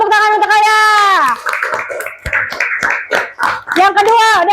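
A classroom of pupils breaks into a short burst of clapping for a student, with a teacher's voice speaking before and after the applause.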